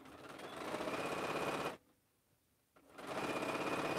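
A sewing machine joins quilt rows with a continuous, even motor hum and rapid needle chatter, pausing for about a second before resuming, close and steady with no talk.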